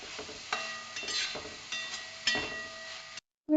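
Onions frying with salt and turmeric in a bronze uruli, with a steady soft sizzle. A spoon scrapes and stirs against the metal every half second or so. The sound cuts out briefly near the end.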